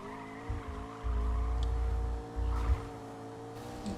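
A supercar drifting in a racing video game, its steady engine drone overlaid by low rumbling tire squeal that swells in two long surges.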